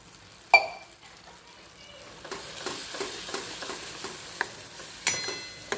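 Tomato gravy hits hot oil in a pan for a Kathiawadi green chickpea curry, bursting into a loud sizzle, followed by steady frying with spoon scrapes and clinks against the pot.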